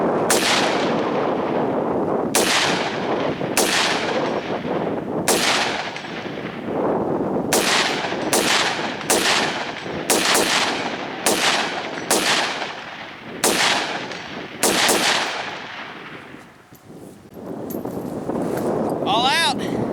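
Rapid volley of 5.56 shots from a Springfield Saint AR-15 pistol fired at a 165-yard target outdoors, a dozen loud sharp cracks with ringing decay, spaced about a second apart before stopping.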